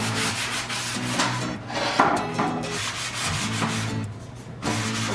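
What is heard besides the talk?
rough sanding a wooden chalkboard frame by hand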